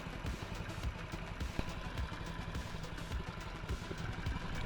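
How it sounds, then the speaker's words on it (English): A Honda Ruckus scooter engine idles after a new fuel line and idle adjustment, running with a slightly uneven, chugging rhythm and light mechanical clatter, close and continuous. "So there's still a little bit of inconsistency in it idling"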